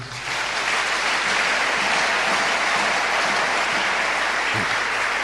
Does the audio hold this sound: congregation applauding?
yes